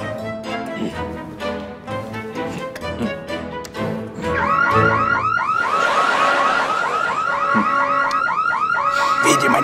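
A loud electronic palace alarm blares in a repeating warbling, whooping pattern that starts abruptly partway through and continues steadily, following a stretch of music and voices.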